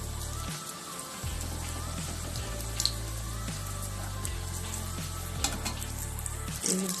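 Luchi (puri) dough rounds dropped one after another into hot oil, a steady close sizzle of deep frying with several sharp bursts as each piece goes in.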